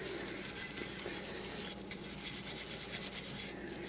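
Surface rust is scrubbed off the metal of a Whitney Kennedy rifle in steady, close, abrasive rubbing strokes that quicken into a rapid rhythmic scouring.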